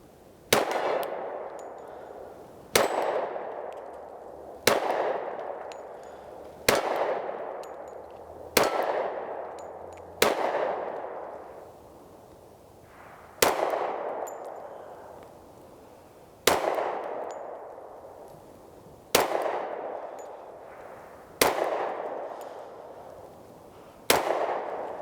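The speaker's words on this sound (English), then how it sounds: "We're gonna take some long shots here at the gong out there" A steel gong rings out again and again as long-range pistol shots from a Springfield XDS 3.3-inch .45 ACP strike it, about eleven sharp metallic clangs at irregular intervals, each fading in a bright ringing decay.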